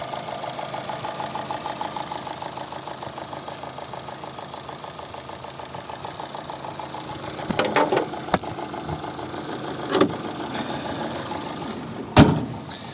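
A 2009 Opel Zafira Cosmo's 1.8 MPi 140 hp engine idles steadily with a continuous low rumble, followed by a few sharp clunks and knocks toward the end.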